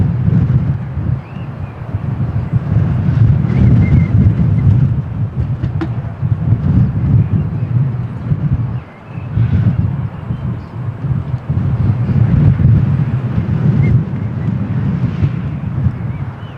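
Strong wind buffets the microphone at Lisbon Airport, a steady low roar that swells and dips over the whole stretch with a brief lull near the middle and no clear voices.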